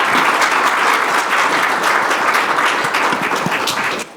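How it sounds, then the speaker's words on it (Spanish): Audience at a security expo panel session claps loudly and continuously for the panelists, a dense burst that fades out at the very end. "les pido para todos los panelistas un fuerte aplauso"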